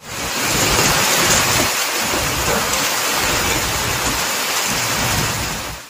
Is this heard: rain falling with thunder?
yes